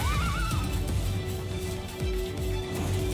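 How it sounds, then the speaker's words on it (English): A horse-like neigh from a deer-like creature in the Palworld video game rises and falls briefly near the start, with game sounds and a low steady drone continuing underneath. "It sounds like a horse, but looks like a deer."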